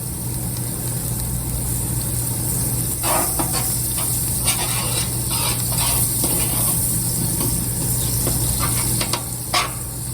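Butter sizzles in a hot pan for taco night, a steady close hiss that runs throughout with scattered crackles and light utensil clicks.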